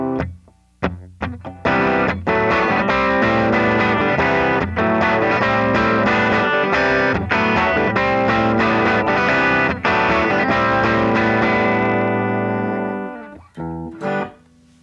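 Electric guitar played through an Effects Bakery Bagel overdrive pedal at low gain, loud strummed chords with mild crunch and sustained ringing notes, a few short stops, then fading out near the end.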